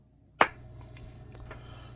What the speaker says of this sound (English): 3, 2, 1, clap.